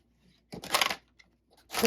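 Tarot cards being shuffled by hand in two bursts, a longer riffling rustle near the middle and another starting at the end, close and fairly loud with quiet pauses between.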